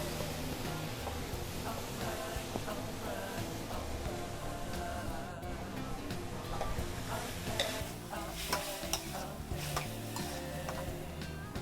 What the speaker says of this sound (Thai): แอนจะใส่หน่อไม้เส้นลงไปค่ะ